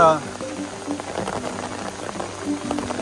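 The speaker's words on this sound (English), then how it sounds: "You can hear the rain hitting the umbrella." Steady rain patters onto an umbrella on the Appalachian Trail, where the path runs like a creek, a dense close drumming with no speech over it.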